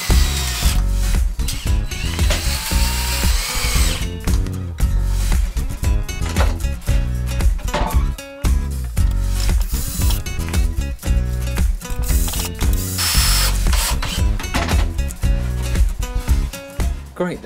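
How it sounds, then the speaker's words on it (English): A power drill drives screws into a wooden crate, a loud, steady whirring run close up that lasts throughout with brief pauses, and no talking. "Line this up accurately and then screw together."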